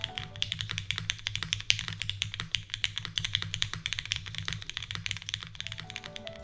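Fast, continuous typing on a mechanical keyboard, dense clacky keystrokes in an uneven rhythm, close and alone over a low steady hum.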